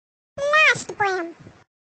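A cat meows twice in a row, close and fairly loud, each call rising then falling in pitch, with nothing else heard around them.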